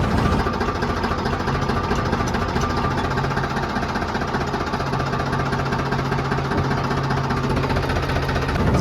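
A tractor engine idles steadily on a farm during the rice harvest, a loud, continuous low rumble with an even throb that does not change throughout.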